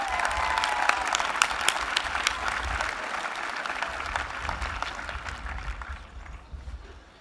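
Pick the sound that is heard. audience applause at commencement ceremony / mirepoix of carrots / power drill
audience applause at commencement ceremony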